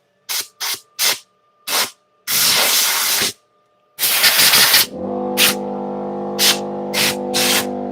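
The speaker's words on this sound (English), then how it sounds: "let me get my compressor" Several short bursts of compressed air from a compressor blow dust off a surface, followed by two longer blasts, then a steady tonal hum with more quick puffs over it, close and loud.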